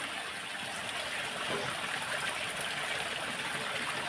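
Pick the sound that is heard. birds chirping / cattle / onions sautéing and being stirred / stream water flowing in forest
stream water flowing in forest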